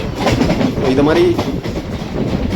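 Guruvayur Express passenger train pulling into Tambaram station, a loud rumble with wheel clatter and a brief squeal, while someone talks over it.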